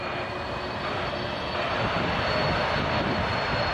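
Aircraft engine roar at Toronto Pearson airport at night, a steady, loud, broadband drone that holds throughout and swells slightly toward the end, with no talk over it.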